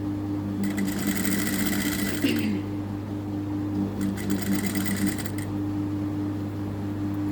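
A sewing machine runs in two bursts, stitching piping pieces set face to face while attaching a chain, with a steady low hum underneath throughout.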